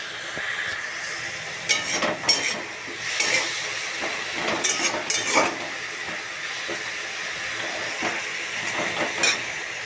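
Water hits a hot pan of sadanote greens and sizzles in a steady hiss. Brief clinks and scrapes from stirring come through at intervals, close and fairly soft.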